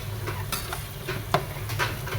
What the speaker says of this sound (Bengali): আলুটা একটু মশলার সাথে ভেজে নিই